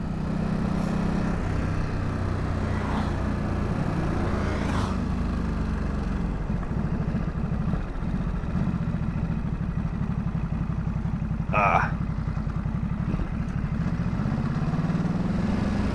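Harley Davidson motorcycle engine running steadily while being ridden, a continuous low rumble with mechanical clatter throughout, close and loud, with no talk.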